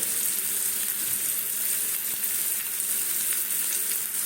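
Spices sizzle in hot oil in a home kitchen before asafoetida is added. The frying hiss is faint and steady, with a fine crackle throughout and no talk.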